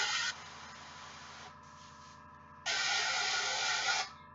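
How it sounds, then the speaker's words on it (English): An airbrush sprays paint onto a Redemptor Dreadnought miniature in bursts of close, sharp hissing, a long burst, a softer middle stretch and another strong burst, over a faint steady compressor hum. "we're spraying this, we're spraying away from us"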